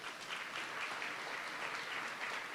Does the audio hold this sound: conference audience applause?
yes